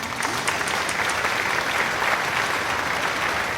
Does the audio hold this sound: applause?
yes